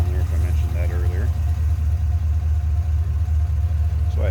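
Steady low rumble of a 2011 Chevrolet Camaro SS convertible's 6.2 liter V8 idling smoothly with aftermarket headers, a deep continuous engine drone heard close up, with a brief murmur of talk near the start.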